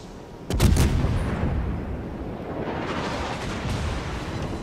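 A shell slamming into a warship in World of Warships lands as a sudden heavy boom, followed by a rumbling roar of battle that carries on steadily to the end, with no talking.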